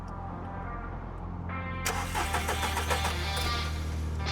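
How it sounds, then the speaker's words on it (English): An old £250 car's engine turns over and catches for the first time, settling into a loud, rough idle up close with a raspy exhaust note from a blowing exhaust. "We're going to start it for the first time to see if the exhaust blows."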